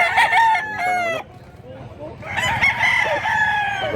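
A ten-month-old stag rooster crows loudly and close by, pausing for a short gap before a second crow, with some background chatter.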